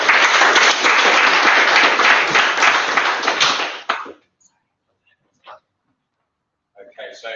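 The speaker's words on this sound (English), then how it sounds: "so a little round of applause." Audience applause at an evening event in London, a dense burst of clapping for about four seconds that stops abruptly, followed by silence and brief voices.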